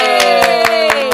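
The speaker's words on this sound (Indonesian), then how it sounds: "Tepuk tangan deh." Applause from a studio audience at an Indonesian talk show, with brisk, loud hand clapping in a steady rhythm over a sustained musical tone.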